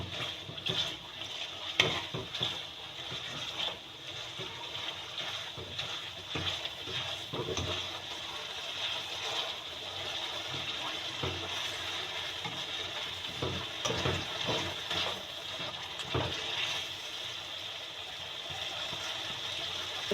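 Vegetables for aloo matar gajar being stirred and mixed in a pan, a soft continuous scraping and gentle sizzle with occasional clinks, fairly quiet throughout.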